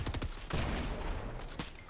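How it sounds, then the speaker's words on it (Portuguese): Gunfire in the video game Fortnite: a few loud, close shots bursting over a steady, noisy game soundtrack, each blast sharp and brief. "Essa arma demora muito pra dar o tiro."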